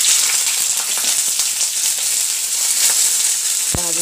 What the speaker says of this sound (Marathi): तर आधी सगळ्यात आधी आपल्याला ही कोळंबी भाजून घ्यायची